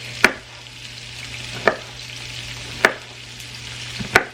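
Food sautéing in a pan with salt gives a steady, close sizzle, broken by four sharp utensil clicks at roughly even intervals.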